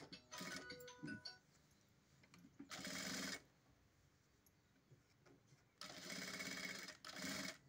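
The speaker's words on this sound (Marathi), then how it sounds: "आता काय करायचं, बाहेरचं कापड जे आहे त्याला शिलाई मारून घ्यायची." A sewing machine stitches sleeve fabric in several short whirring bursts separated by pauses, with quieter clicks and handling sounds in between.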